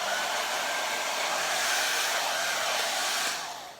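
A handheld blow dryer without its concentrator nozzle roars steadily while drying hair, a loud continuous airy whoosh that holds even before tapering off near the end.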